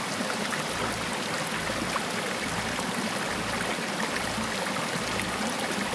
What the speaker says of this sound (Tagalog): Sapa lang yung naririnig ko eh.